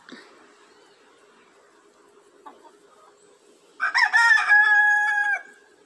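A rooster crows in a rural chicken coop, one loud, clear cock-a-doodle-doo rising and trailing off after a stretch of quiet farmyard background with a faint steady hum.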